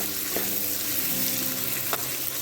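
Vegetables for mushroom noodles are stir-fried in a pan, a dense continuous sizzle filling the whole stretch, with a couple of brief utensil scrapes partway through.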